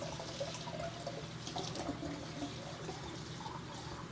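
Water runs steadily from a tap into a jar of melon seeds, a continuous close hiss and splash with faint trickling and no speech.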